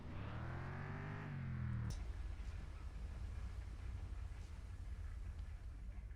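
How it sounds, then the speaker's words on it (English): A truck in the video game Mon Bazou shifts into reverse, its engine whining and rising in pitch before dropping to a low, steady rumble that carries on to the end. "I have to put the truck in reverse."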